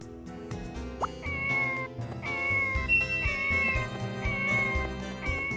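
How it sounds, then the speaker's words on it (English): The bomber cats in Harvestella meow in repeated short, tonal cries over game background music, close and clear, several calls in quick succession. "Can't fail to mention the bomber cats"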